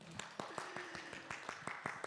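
Sparse, faint handclaps from a small audience at a talk marking a cultural institution's tenth anniversary. About a dozen separate claps come in a loose, uneven rhythm over a quiet room, with a brief voice underneath.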